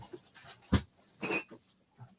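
A dog panting close by in short, uneven bursts of breathy huffs, with a few louder gasps and quiet pauses between them.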